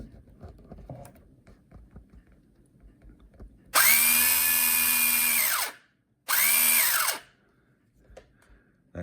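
A TeamSlot ZakSpeed Escort slot car motor revs up to a high, loud whine in two bursts, the first about two seconds long and the second shorter, after quiet handling noises.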